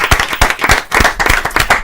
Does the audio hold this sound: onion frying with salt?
no